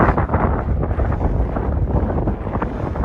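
Wind blows against the microphone during an outdoor walk near the Humber, a steady, loud low rumble with fluttering gusts and no speech.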